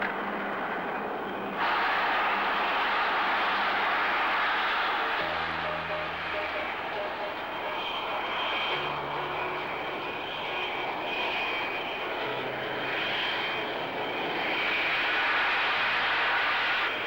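English Electric Lightning jet engines roar during a scramble takeoff, a loud, sustained broadband rush with whining tones that surges after a short quieter opening and holds steady; faint radio-like voices sit underneath.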